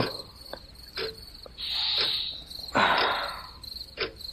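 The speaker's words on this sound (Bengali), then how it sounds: "নিচ থেকে হালকা ঝিঝির ঢাক ভেসে আসছে" Steady high-pitched cricket chirring runs throughout, with brief louder bursts of noise breaking in now and then; no voices.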